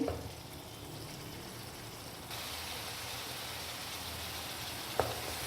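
Ingredients for a turnip and mutton curry fry in a pan over medium heat, producing a steady even sizzle that grows slightly louder partway through, with one brief clink near the end and no talking.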